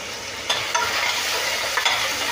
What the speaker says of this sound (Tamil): சன்னா சாட்டுக்கு வெங்காயம் வதக்கிட்டு இருக்கேன்.